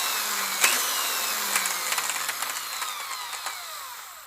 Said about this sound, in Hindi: मैंने दराज खोला और इसमें से ड्रिल मशीन निकाली और ड्रिलिंग करना शुरू कर दी।